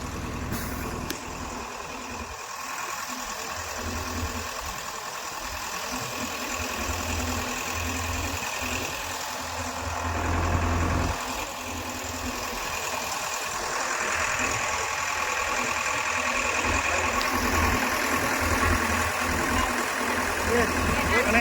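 Engine of a river-crossing boat on the swollen Malsai river, a steady low drone throbbing close by throughout, with a constant hiss of water and wind over it.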